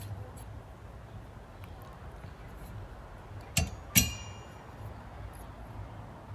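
A screwdriver presses down on a car wiper adapter, giving two sharp metallic clicks about half a second apart over a low steady background hum.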